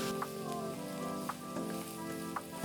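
Onions sizzling steadily in a pan for egg puffs, a continuous close frying hiss with a few faint soft clicks, no voices.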